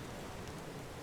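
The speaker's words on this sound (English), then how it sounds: "I think it's raining" Steady rain falls in the medieval survival game Medieval Dynasty, an even hiss with no breaks and no voices over it.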